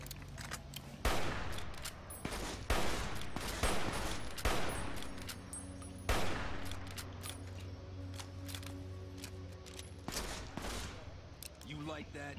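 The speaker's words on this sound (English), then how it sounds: "Hunting rifle." Hunting rifle shots in Fallout New Vegas ring out loud and close, spaced a second or two apart and each trailing a sharp echo, over a steady low game hum and faint background tones.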